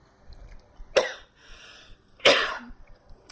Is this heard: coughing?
yes